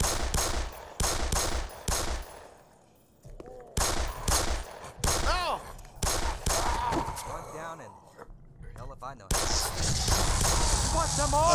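Heavy gunfire bursts in the video game Black Mesa, with repeated loud booming shotgun blasts in uneven clusters and short pauses between them, while someone talks over the action.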